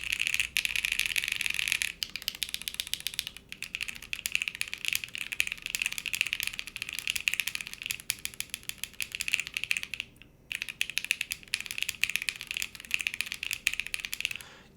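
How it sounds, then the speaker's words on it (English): Keys clicking on an Altair split ergonomic keyboard, a rapid continuous clatter of individual keystrokes with a few brief pauses, close and crisp with no talking. "I'm just clicking random keys right now"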